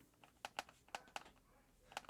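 Keys clack on an Asus G14 laptop keyboard from 2022, a quick irregular run of light, close taps with short pauses between bursts.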